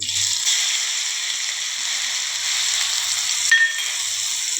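Garlic and chili paste sizzling in hot oil with popped mustard seeds while cooking an onion and potato curry, a steady close hiss of frying that runs unbroken, alone without talk.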